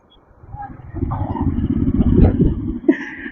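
A motorbike engine rumbles and strains at low speed while riding through a flooded road, its note rising and falling under splashing, with a person talking nearby over the sound.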